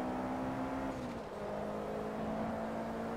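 A Lamborghini Murcielago passing during a Silverstone Grand Prix race in Forza Motorsport 2: a steady engine drone whose pitch dips as the car goes by, then holds at a sustained whirring hum.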